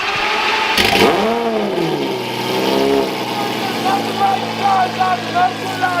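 Lamborghini Murciélago with a manual transmission and modified exhaust, revving loud and close: a sharp blip rises and falls, then the engine settles into a deep idle with smaller throttle blips, while someone speaks over it.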